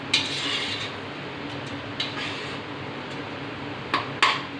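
Yogurt is stirred into mutton biryani masala in a pot. A spoon scrapes and clinks against the metal a few times over a steady background hiss, with no talking.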